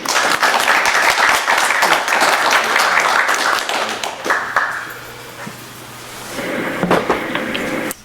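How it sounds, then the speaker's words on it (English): Audience clapping at a school district committee meeting, a sustained burst of applause that thins toward the middle and then swells briefly again. "Join me in a round of applause for them."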